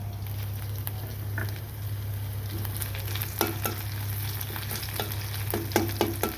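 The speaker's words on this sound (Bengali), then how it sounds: "পেঁয়াজটা একটু হালকা কালার করে এর মাঝে পোলার চাল দিব" Onions and rice sizzle steadily in a hot pan, with occasional sharp clicks of stirring over a constant low hum.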